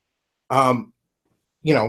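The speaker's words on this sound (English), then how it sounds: "Coughing up a storm here" Two short, throaty coughs close by, separated by a second of silence.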